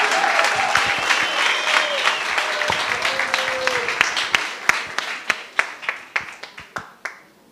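Audience at a township business pitching challenge workshop applauds, a dense burst of clapping with crowd murmur that thins into scattered individual claps before stopping.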